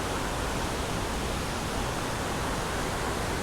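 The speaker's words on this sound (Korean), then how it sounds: "지금 물소리가 엄청나게 시끄럽게 들리시죠" Loud, steady rushing of a stream swollen by heavy overnight rain, flowing beneath a forest near an abandoned house in Gohan, Jeongseon, a dense continuous roar filling the whole stretch with no voices.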